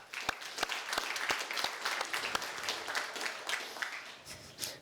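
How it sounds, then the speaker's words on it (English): Audience at a lecture society meeting claps steadily, a moderate crowd of individual hand claps blending into even applause that carries on throughout at a fairly soft level. "please join me in applauding their contributions"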